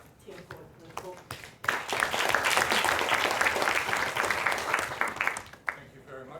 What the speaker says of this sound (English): Let's give him a round of applause and welcome Tim for the talk